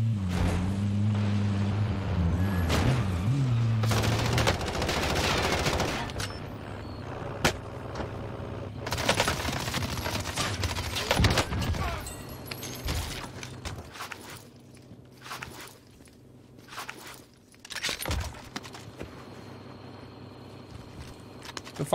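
Gunfire in the battle royale shooter Call of Duty Warzone, sharp shots and bursts over a rumbling vehicle-like drone, some close and loud, others sparse and distant toward the end.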